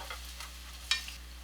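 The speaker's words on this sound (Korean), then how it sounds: "지글지글 맛있게 익어가는 소리" Radish pancakes frying in a pan, a steady soft sizzle with a few brief crackles and pops.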